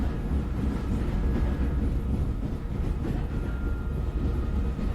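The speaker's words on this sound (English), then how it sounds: "this is not your ordinary train" A train rolls along in the video game Grunnd, a continuous low rumbling drone with a faint steady tonal hum, moderately loud and unbroken, with no voices.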